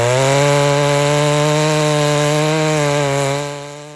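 A chainsaw runs steadily and loudly while slowly scoring a big log lengthwise for milling, holding a strong even drone that drops in level near the end as the cut eases off.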